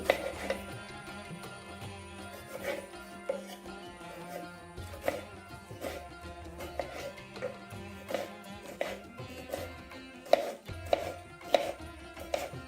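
A knife chops a tomato on a cutting board for a banana stem dish, with steady, evenly spaced cuts repeating close by over soft background music.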